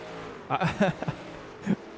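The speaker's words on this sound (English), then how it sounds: "Chad's going to come into pit from the inside, racing for the lead, and he's going to scream it on in there" A race car in iRacing pulls into pit lane at Nashville, its engine giving a few loud revving bursts under an excited commentator's voice, with one final rev near the end.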